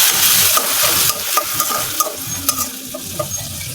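Cumin and onion paste frying with onions for boal fish bhuna, a loud close sizzle with regular spoon clacks and scrapes as the mixture is stirred.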